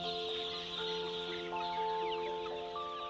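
Chickens cluck and chatter inside a shed on an organic free-range farm in New Zealand, a steady chorus of hens close by with a few sharper calls rising above it.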